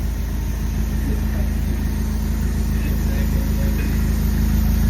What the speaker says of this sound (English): so I guess it has the AWE switch path exhaust